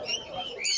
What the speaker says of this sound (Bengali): আপনার কাছে তো অনেক সুন্দর সুন্দর লরি পাখি দেখতে পাচ্ছিলাম